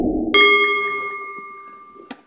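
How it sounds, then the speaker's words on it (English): A wrestling ring bell rings once, loud and close, with a clear metallic tone that rings on and slowly decays, then a short thud near the end. "Alright, the bell rang and here we go."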